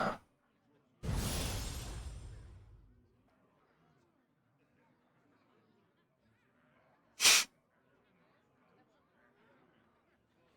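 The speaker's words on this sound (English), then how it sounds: "nice sneeze" A cartoonish sneeze effect from the card game Hearthstone bursts out loudly for about two seconds and trails off, with a second short sharp game sound a few seconds later over quiet background.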